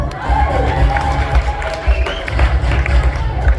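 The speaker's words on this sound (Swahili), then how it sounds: "Makofi jamani." A live audience cheering and clapping in a hall, loud and continuous with shouting voices mixed into the crowd noise.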